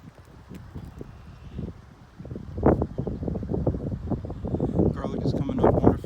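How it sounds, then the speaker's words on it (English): Wind buffets the microphone in gusty rumbles on a farm while a person talks, growing stronger partway through. "It's a little windy,"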